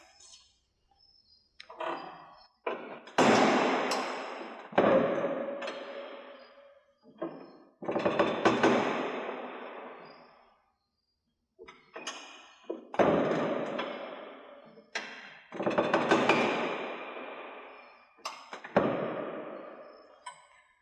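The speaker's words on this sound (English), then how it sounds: "Next, we will use the winch bar to tighten the straps." A winch bar tightens trailer straps during a truck driver's physical test, heard as repeated close bursts of ratcheting and thuds separated by short silences.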